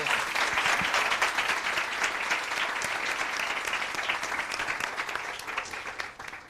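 Audience applause after an education talk on early childhood language, dense steady clapping from a crowd that holds strong for several seconds and thins slightly at the end.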